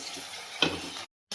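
Small sago and peanut bhaje sizzle as they fry in hot oil, a steady close hiss with one brief louder splash of batter, cut off abruptly at the end.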